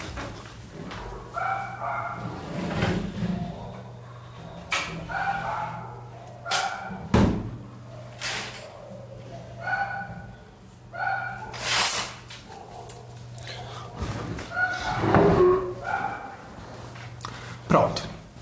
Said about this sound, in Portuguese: deixa eu fechar a janela pra diminuir o latido